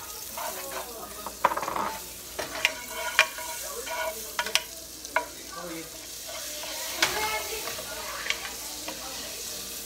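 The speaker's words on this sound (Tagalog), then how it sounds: "My pan is hot. I don't have much oil, so I will put some more butter." Butter sizzles in a hot frying pan while cooking Bicol Express, a steady soft crackle and hiss with occasional scraping stirs and light clinks of a utensil against the pan.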